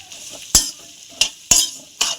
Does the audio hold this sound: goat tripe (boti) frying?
yes